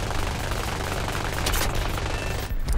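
Aircraft machine guns firing in War Thunder air arcade, a dense continuous rattle of rapid shots under engine drone for a few seconds, cutting out briefly near the end.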